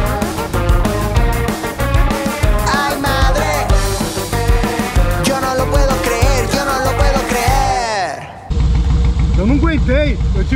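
A Harley-Davidson 883 motorcycle engine revs hard with rising and falling roars, then drops to a deep, lumpy idle, loud and close.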